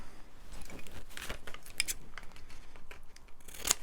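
Brisk snipping and crinkling of paper being cut with scissors, a few crisp close strokes with a sharp metallic snip near the end.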